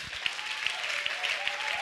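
A congregation in church clapping in a steady rhythmic beat, several firm claps per second, with a voice singing or speaking over it.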